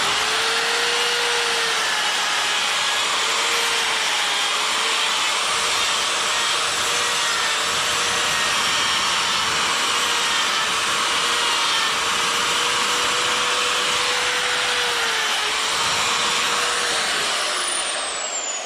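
Rotary burr grinding detail into the face of a chainsaw-carved wooden bear, a continuous high whirring drone with a wavering tone as the bit rubs against the wood, close and steady throughout.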